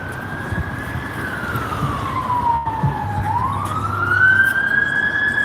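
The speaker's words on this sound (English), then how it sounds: "Ambulance, or police actually, police coming through." Police siren passing on a street, a loud wailing tone that sweeps down and back up as the vehicle goes by, over steady traffic rumble.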